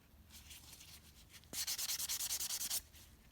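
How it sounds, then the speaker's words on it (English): Buffing block rubbing back and forth across a press-on nail, a quick run of about a dozen even, close scraping strokes after a quieter stretch of lighter rubbing. "And now the nail is nice and crisp. And we're just gonna take a buffing block."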